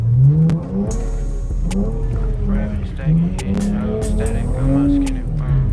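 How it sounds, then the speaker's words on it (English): Car engine revving continuously while sliding around corners on a track, rising and falling pitch with a strong low rumble, someone talking over it throughout. "We're going to try to slide every corner in Saddle."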